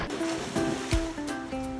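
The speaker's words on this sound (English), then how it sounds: "paddling in the pool" A pit bull swims and paddles in a pool, giving continuous splashing and sloshing water close by with small bursts of churning, and no voices.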